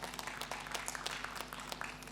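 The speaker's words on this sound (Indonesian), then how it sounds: "beri tepuk tangan kepada Tuhan" Congregation clapping at a Sunday church service, a faint, steady patter of many hands spread evenly through the room over a low background hum.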